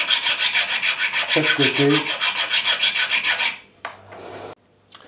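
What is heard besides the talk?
filing the edges of a wooden whistle body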